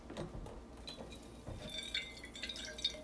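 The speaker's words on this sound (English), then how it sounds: "As I rinse out my coffee mug here. Or my travel mug." Water splashing and dripping while a coffee travel mug is rinsed out, uneven trickles and small clinks at close range, no speech.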